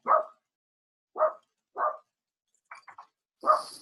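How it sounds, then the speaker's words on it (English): Dogs barking outdoors, five short separate woofs spaced about a second apart plus a quick yippy burst, fairly near and clear against silence. "There are some dogs talking right over here."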